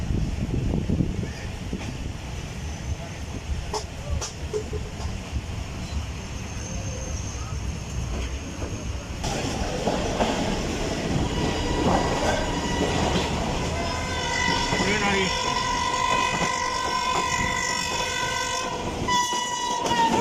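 A passenger train pulls out of Landi Junction station in Pakistan with a steady rolling rumble that builds into rhythmic clickety-clack on the rails. A drawn-out whining tone rises toward the end, and voices speak faintly in the background.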